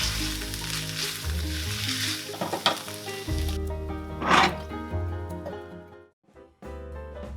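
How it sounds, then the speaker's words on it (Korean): Rosé pasta sauce with melted pizza cheese bubbling and sizzling in a pan while being stirred, a close steady sizzle with occasional scraping strokes and brief dips near the end, no voices. "그 위에 피자치즈를 넣어 어렵나 같이 잘 섞어 졸여줍니다."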